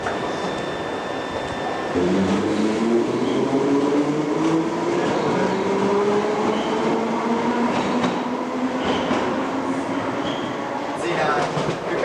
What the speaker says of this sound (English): This is the subway where we travel everywhere very quickly and efficiently.